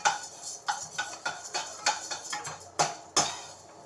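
Fried gram (pottukadalai) is dry-roasted in a pan, and a utensil scrapes and taps at a steady rhythm, making close, light clinks and rattles of about a dozen strokes with no talk.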